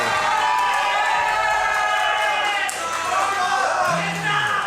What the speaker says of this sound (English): this has caused a lot of excitement from the crowd